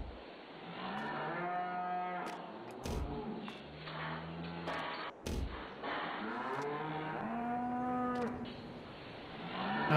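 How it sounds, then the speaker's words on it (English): Several cows moo in a barn in Farming Simulator 22, long drawn-out calls overlapping one another, fairly loud and close, with a few sharp clunks between them and no talking. "We can have 104 cows in this barn."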